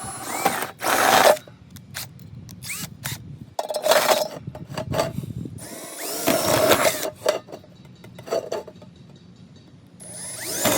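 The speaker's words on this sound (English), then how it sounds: "we'll use this 1/8 inch by 1/2 inch step bit." A 1/8 inch by 1/2 inch step bit drills into metal while building a hobo stove, giving loud, close, grinding bursts that come in repeated stop-start passes separated by brief quiet gaps.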